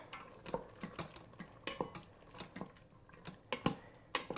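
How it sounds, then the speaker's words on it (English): Cashew chicken with cornstarch slurry sauce stirred in an Instant Pot pot, a series of soft scraping clinks and wet taps of a utensil against the pot at an irregular rhythm, close and quiet with no talking. "Give it a little stir."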